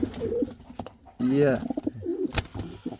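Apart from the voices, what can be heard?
pigeons cooing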